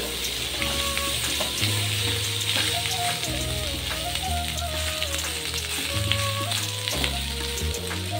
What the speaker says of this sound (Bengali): তো চলো সয়াবিনটা ভাজা হোক